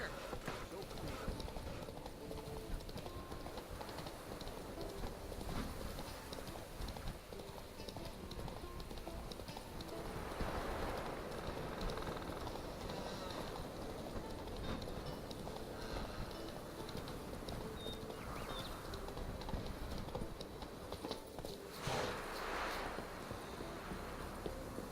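Roach the horse galloping in the game Witcher 3, a quick steady clip-clop of hooves running on for the whole stretch under faint game voices and ambience.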